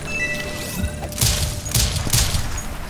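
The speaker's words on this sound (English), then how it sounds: "if you double tap right trigger after you shoot the bullet, it'll then like super speed shoot" Rapid super-speed gunfire in the video game Rise & Shine: a faint rising whine, then a quick burst of heavy booming blasts with crashing impacts, loud and close, with no talk.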